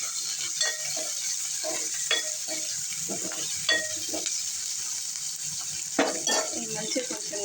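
Onions sizzle in a hot pan while a spoon scrapes and stirs them in repeated, clattering strokes, with a steady frying hiss underneath and no talking.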